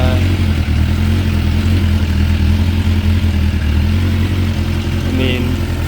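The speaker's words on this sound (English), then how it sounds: "So now I fired up the bike again. It idles at about 1200 plus minus 50 again." A 2006 Suzuki GSX 600F Katana motorcycle with a carburetor problem idles near at a steady low rumble, the tone holding even throughout with only slight wavering, and no voice over it.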